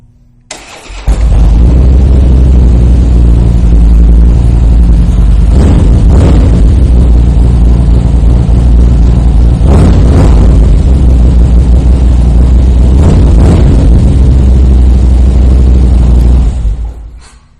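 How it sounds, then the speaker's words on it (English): A 2014 Harley-Davidson Softail Slim with a brushed aluminum Vance and Hines exhaust starts up and idles with a loud, deep, steady rumble. It is blipped a few times with short rises in revs, then shuts off near the end. No one talks over it. "go ahead and fire that Vance and Hines exhaust system up so you can hear this"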